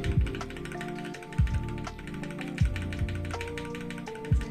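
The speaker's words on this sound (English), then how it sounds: "we're gonna press delete on your keyboard," A key is tapped repeatedly on a computer keyboard, making sharp clicks that come in small bursts about once a second over a faint steady background hum.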